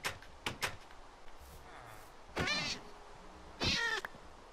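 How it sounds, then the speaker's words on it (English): A cat meows in Minecraft, two drawn-out in-game cries standing out clearly over a few short knocks and low background noise, with no talking. "This is the cat."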